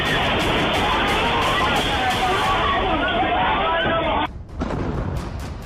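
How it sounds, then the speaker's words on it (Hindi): An Israeli army strike in Lebanon produces a loud, sustained explosive roar with crackling, babble-like texture that cuts off sharply near the end, followed by a quieter rumble. "ये छठा धमाका इजरायली सेना ने लेबनान में किया है।"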